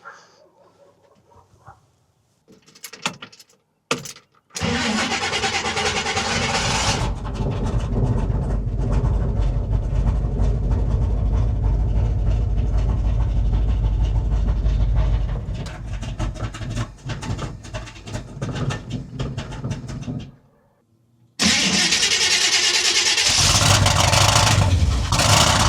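A 1970 Chevy C20 pickup with a big block V8 cranks briefly, then catches and roars into a loud, steady idle that runs for about fifteen seconds, cuts off, then fires up again just as loudly.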